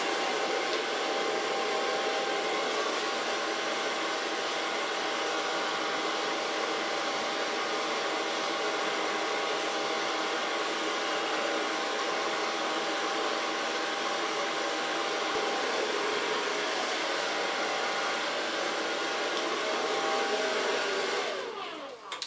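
A hair dryer blows continuously on short hair at a salon, a loud steady whooshing whine held for over twenty seconds before it cuts off at the end.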